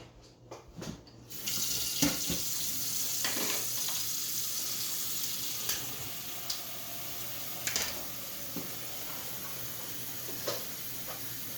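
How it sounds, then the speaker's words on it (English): Hot water runs steadily into a kitchen steamer, a continuous close splashing pour with a few small clinks of the pot, with no voices. "this is my steamer, and I'm going to just put some hot water in here now"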